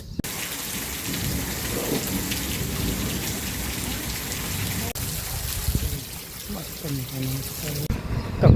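Heavy, steady rainfall during a storm, a dense continuous roar close by with faint voices near the end.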